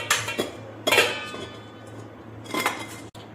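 Cooked rice-flour dough is scraped from a pan into a vessel, with a few distinct metal utensil clinks and scrapes in short bursts separated by quiet gaps, close and without speech.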